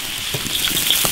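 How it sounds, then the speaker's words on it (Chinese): Beef being stir-fried in an iron wok, a dense, steady sizzle of hot oil close by with faint stirring movements, no voices heard. "先把那个牛肉煸香，把那个油给它煸出来。"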